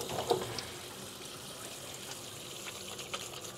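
Tap water running over a reusable cloth tissue being washed, a soft steady gush with a few splashy bumps near the start, fairly quiet and close.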